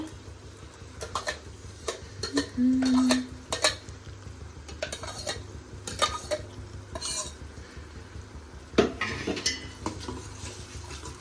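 Spoon stirring capsicum and tomato puree in a metal pan, with scattered scraping clinks and taps at an irregular pace over a soft background, and a brief louder scrape partway through.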